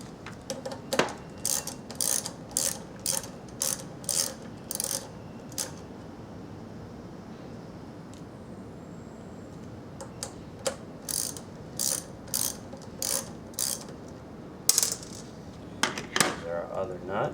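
A hand ratchet removes an engine intake nut with repeated short bursts of clicking. The strokes come in quick spaced runs at the start and again later, separated by a quieter stretch of handling noise.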